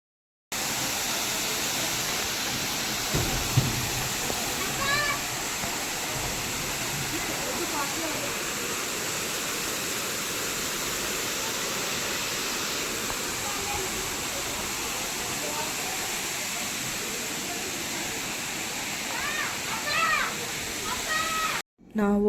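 Abbey Falls in Coorg near Madikeri roars with a dense, unbroken rush of falling water, loud and constant throughout, with faint crowd voices now and then beneath the torrent.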